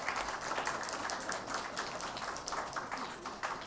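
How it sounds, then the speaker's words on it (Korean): A church congregation at a Sunday service applauds together, a soft, steady patter of many hands clapping throughout, faint and somewhat distant, with no talk over it. "박수 한번 좀 보내주세요"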